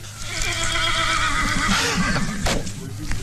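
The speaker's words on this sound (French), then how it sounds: "Il y a un cheval là-dedans." A horse neighs in a film trailer, a loud, long whinny with a wavering pitch, with some hoof-like clopping and a steady background hum under it.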